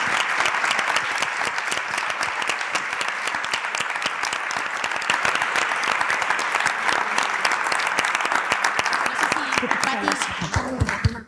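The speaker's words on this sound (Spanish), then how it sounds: "yo pido otro caluroso aplauso para nuestras charlas inaugurales" Warm audience applause after the inaugural talks of an event, dense continuous clapping from a large crowd filling the room at steady loudness before trailing off at the end.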